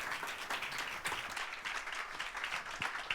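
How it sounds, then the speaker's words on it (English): Conference audience applauding a panel session, a soft, distant wash of many hands clapping steadily throughout, fairly faint, with no talking over it. "Round of applause, everyone."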